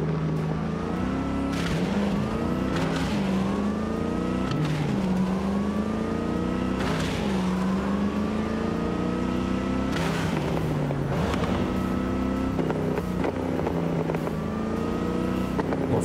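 A car drives in Cyberpunk 2077, its engine droning continuously and loudly, with repeated rising and falling revs through gear shifts and no voices.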